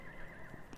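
A horse in the video game Rome: Total War lets out a brief, quiet neigh, with faint hoof clopping beneath it.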